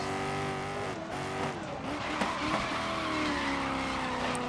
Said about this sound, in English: Can you hear those tires?